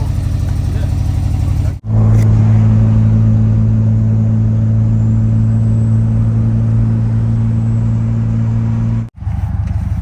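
A Nissan R33 Skyline with a forged engine drones steadily while driving, a loud, even mid-pitched engine hum that cuts off abruptly at each end to louder bursts of rumble.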